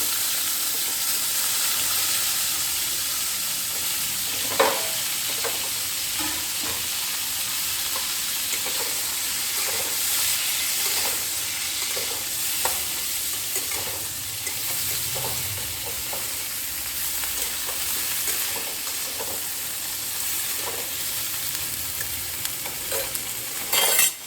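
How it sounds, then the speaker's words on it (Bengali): Potato and cauliflower pieces frying in hot oil for a fish curry, a continuous loud sizzle with regular scraping clicks of stirring in the pan, close and steady, no voices. "ঝোলের সবজি বেশি ভাজার দরকার হয় না, তবু একটুখানি আমি কালার চেঞ্জ হওয়া পর্যন্ত ভাজবো।"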